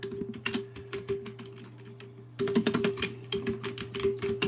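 Computer keyboard being typed on in quick irregular bursts of clicks, a short pause midway before a faster run of keystrokes, close and fairly quiet with a low hum behind.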